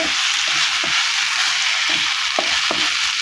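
Garlic sautéing in a pan for a kootu chutney, a loud continuous sizzle with occasional clinks of a stirring spoon and no talking.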